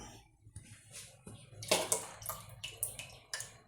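A chili and coriander powder mixture stirred with water is poured into a pot for sambar, making a splashing, gurgling pour with several bright spatters and clinks of the vessel, close by under a faint voice.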